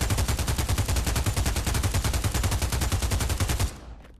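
A PP-19 Bizon submachine gun in the video game Pavlov fires one long full-auto burst, rapid even shots close and loud, ending abruptly with a short fading tail.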